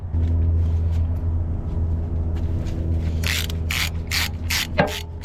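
A ratchet fitted with an 11/16 socket loosens the tensioner bolt on a CAT track loader, giving a run of quick, close clicking bursts over a low steady engine-like hum, with no speech.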